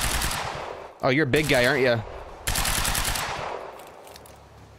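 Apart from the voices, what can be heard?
machine gun fire in video game Quantum Break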